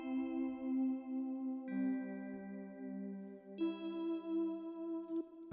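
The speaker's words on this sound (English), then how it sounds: "So the lead is it's called the Bell Pad 3 in." A Bell Pad 3 synth lead from an FL Studio beat plays sustained bell-like chords that change three times, a soft steady tone with no talking over it.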